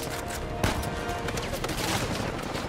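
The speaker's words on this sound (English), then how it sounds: "Oh no, I just gotta dodge a sniper." Dense gunfire in the video game Uncharted 4, including a sniper, rattles on continuously in a busy, loud mix with one sharper crack standing out.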